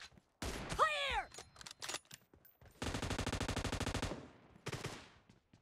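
Gunfire in the video game PUBG during a team match: isolated sharp shots, then a long rapid automatic burst of evenly spaced shots, then a few more, with a brief whooshing sweep early on; loud and close.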